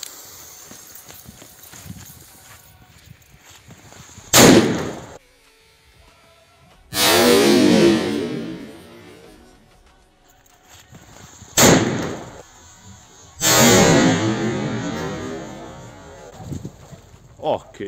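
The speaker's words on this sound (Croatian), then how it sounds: "Sljedeća petarda koju imamo, to je plavi silver." A 'plavi silver' firecracker goes off inside a hair dryer, giving sharp loud bangs followed by longer roaring, crackling bursts, spread over the stretch with quieter voices in between.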